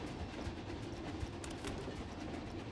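Train ride rolling along its track in the theme-park game Planet Coaster 2, a steady low rumble with faint rhythmic clatter, moderately quiet and continuous with no talk.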